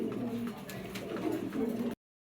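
Racing pigeons, a pair of Shadel birds, coo softly in a low rolling murmur that repeats under a faint background hum, close and steady, with no talking, then cutting off abruptly.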